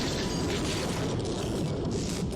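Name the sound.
particle accelerator explosion in The Flash TV episode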